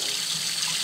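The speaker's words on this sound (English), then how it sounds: "We are just going to drain out the hot water, the excess water." Hot cooking water drains through a strainer in a home kitchen, a steady close hiss of pouring, splashing liquid that runs alone for under a second.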